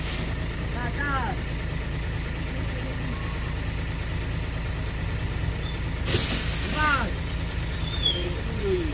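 A heavy tanker truck engine labors steadily and loudly struggling up a steep hill, with a sharp hiss of air brakes partway through and a continuous low rumble throughout.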